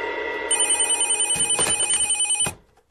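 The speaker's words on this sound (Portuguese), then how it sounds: "Uma ligação do delegado Tenório, senhor" Telephone ringing indoors, a steady electronic bell tone with rapid pulsing warble that rings for about two seconds and then stops, heard alone.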